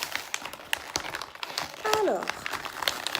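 Plastic toy packaging for Tsum Tsum series 3 figures crinkles in short bursts as it is torn open by hand, with a brief rising squeak partway through and a voice speaking at the start.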